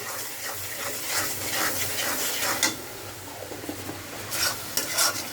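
Pumpkin and shrimp curry cooks in a home kitchen pot, a steady soft sizzle with repeated scraping stirs and light clinks of a utensil against the pot, close and without talk.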